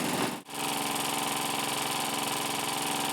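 A 1914 Meccano toy steam engine runs with a steady, close mechanical chugging and vibration, briefly dropping out for a moment before resuming a continuous even rhythm.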